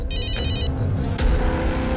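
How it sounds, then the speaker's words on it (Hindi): A mobile phone rings indoors during a crime drama scene, its electronic trilling tone in two bursts over a low background hum, with no talk during the ringing. "अगं मोबाईलची रिंग वाजते, बघ जा कोणाचा फोन आहे बघ."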